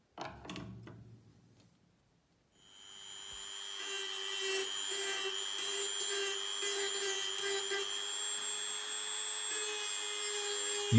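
A Dremel rotary tool sands the freshly cut surface of a PVC piece, a steady high-pitched whine with gritty rubbing that runs continuously after a brief quiet start, close and fairly loud.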